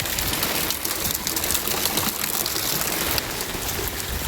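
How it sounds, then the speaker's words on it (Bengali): Steady, dense rain pours down outdoors, a continuous loud hiss of drops hitting surfaces with no pauses and no voices. "হাই রে বৃষ্টি"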